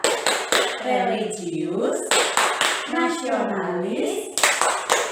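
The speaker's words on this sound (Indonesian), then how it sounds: "kita tepuk BPK bersama-sama ya" A second-grade class doing the PPK clap chant together, sharp rhythmic bursts of hand claps alternating with children chanting words in unison, close and lively.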